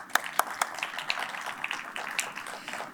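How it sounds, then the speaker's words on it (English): At a business awards ceremony, a sparse, thin audience claps for a general manager accepting an award, with a few sharp close hand claps standing out from softer scattered clapping. "Another round of applause."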